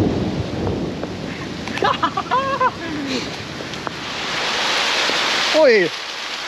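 Steady rain hissing across a dark, wet bridge near the Ukrainian border, a broad continuous wash with a few short voices calling out over it and a brief swooping sound near the end.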